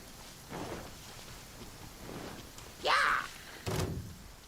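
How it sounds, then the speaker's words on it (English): Steady rainfall in the video game Genshin Impact, a soft continuous hiss with a few brief thudding bursts and a louder splash near the end, fairly quiet overall. "it's still raining"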